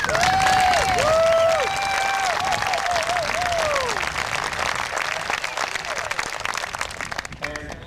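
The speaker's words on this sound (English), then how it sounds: "So how about a round of applause?" Audience applause at a 2001 Soquel High graduation, a sustained crowd of clapping with some cheering and whistles, loud at first and slowly thinning out over about eight seconds.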